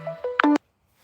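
A telephone being dialed, a short run of loud keypad tones one after another, then the line falls silent.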